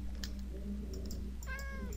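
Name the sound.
cat meowing in the video game Minecraft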